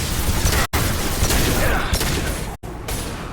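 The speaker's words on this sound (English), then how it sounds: "He just walked through my grenade." A grenade goes off in the video game Mass Effect 2 with a loud, broad blast amid dense combat noise, followed by brief abrupt cut-outs and continued rumbling gunfire.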